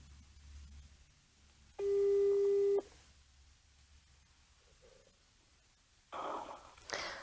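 A telephone line tone sounds while a call is being dialed, one steady electronic beep lasting about a second amid quiet room noise and breathing.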